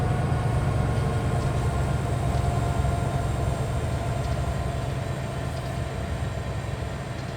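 A Union Pacific SD70ACe freight train rolls past on Sherman Hill in Train Simulator, a steady dense rumble of wagons and wheels on rail that holds throughout and eases slightly toward the end, with no talk.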